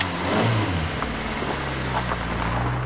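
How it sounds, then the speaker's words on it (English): A fire-singed Vauxhall Cavalier engine runs and revs loudly up close, its low rumble swelling and settling with steady engine drone throughout and no talking. "just to show this rather singed Vauxhall Cavalier still works"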